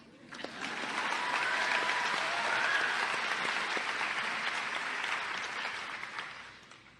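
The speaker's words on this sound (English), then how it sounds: "give yourself an applause" Audience applause at an Amnesty International award ceremony for climate activists, dense clapping that swells in, holds steady and fades out near the end, with faint whistles or cheers mixed in.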